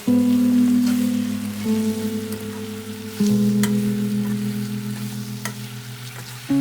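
Spicy chicken wing sauce with soy sauce, Sichuan pepper and oyster sauce sizzles loudly in a hot pan while being stirred, with steady frying hiss and faint clinks, no talk.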